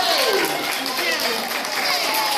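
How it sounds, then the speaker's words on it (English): A children's audience claps and cheers at a library magic show, a dense, bright burst of applause that fills the whole short moment without a break. "Give yourself a big round of applause."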